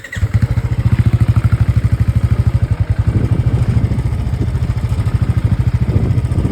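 A two-wheeler on an off-road ride near Butterfly Beach, Goa: close, loud engine putter with a fast regular pulse, briefly steady then roughening as it moves over uneven ground, with no talk.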